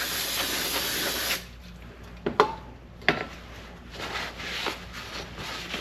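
An aerosol spray can hisses onto the water pump surface of a 5.7 Hemi engine in bursts, a loud opening spray, a pause with a few sharp clicks, then the hiss resuming, nearby and without speech.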